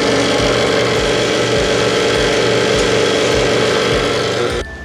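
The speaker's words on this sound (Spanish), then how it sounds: "Llegó el momento de batir." Electric mixer beating a banana ice cream mixture, a loud continuous whirring drone with a slight pulsing rhythm, running steadily close by before cutting off at the end.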